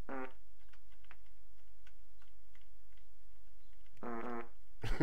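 Two short, buzzy farts break a quiet stretch, one at the very start and another near the end. Faint ticking clicks fill the gap between them.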